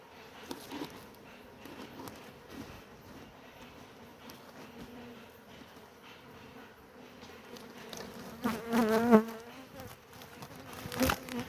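Honey bees at a traditional log hive buzz in a soft, continuous drone, with louder, closer swells as individual bees pass near, especially toward the end.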